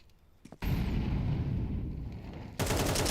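A dense, loud burst of automatic gunfire spray from a Counter-Strike match, a continuous rattling barrage lasting about two seconds that cuts out and then resumes abruptly.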